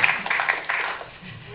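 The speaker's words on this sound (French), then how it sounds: "On peut les applaudir très fort" A studio audience on a French television set applauds after an Ondes Martenot performance, a brief patter of clapping that starts strong and gradually thins out.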